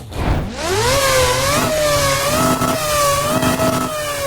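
A Mazda rotary-engine race car from the 1991 championship era in the Roblox game Midnight Chasers revs loudly and continuously, its pitch climbing sharply at the start and then holding high with small dips and rises, close and alone.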